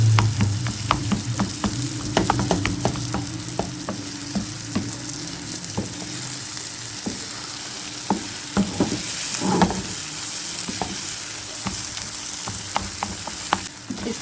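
Goat brain frying in masala, sizzling steadily up close while a spoon clacks and scrapes against the pan in irregular bursts, no voices.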